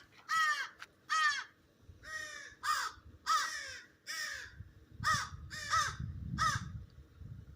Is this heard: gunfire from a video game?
no